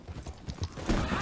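A horse's hooves pound at a fast gallop in the video game Red Dead Redemption 2, quick clattering beats over a brief second with a rising rush of noise toward the end.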